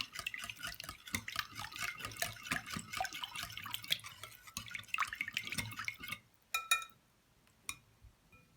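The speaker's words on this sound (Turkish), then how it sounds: "Tekrar hepsini şöyle bir karıştıralım." Egg yolks, egg whites and dough mixture stirred by hand in a bowl for a Turkish poğaça recipe, giving steady wet clicking and scraping that stops abruptly, followed by a few isolated clinks near the close.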